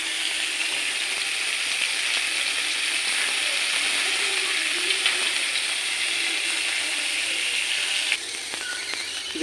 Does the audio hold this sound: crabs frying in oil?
yes